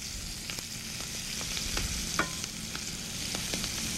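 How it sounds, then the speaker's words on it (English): Freshly chopped garlic sizzles in a hot pan with a constant fizzing hiss and intermittent scraping taps from stirring, close by, with no talking over it. "We're going to add a little bit of fresh chopped garlic. Okay. That just goes right into the pan."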